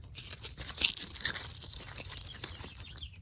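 Close, brittle crunching and crackling as small sun-dried blueberries are crushed by hand, in quick bursts over about three seconds.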